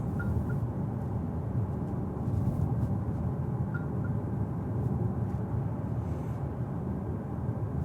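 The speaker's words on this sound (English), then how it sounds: "Let me demonstrate the overspeed alert. Very subtle chimes," A Renault Scenic E-Tech sounds its overspeed alert, two pairs of soft, quiet chimes a few seconds apart over steady road and cabin rumble while driving.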